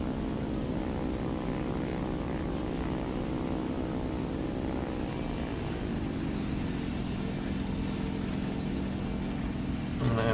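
A propeller-driven bomber's engine drones continuously in the War Thunder flight game, a loud, steady low hum with a slight shift in pitch midway and a brief swell at the end.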